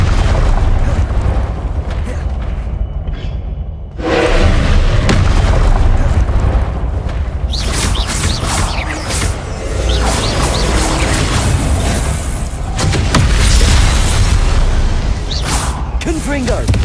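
Confringo blasting spells going off in Hogwarts Legacy, a run of loud booming explosions and crashes with game effects, close and heavy, with a voice speaking over part of it.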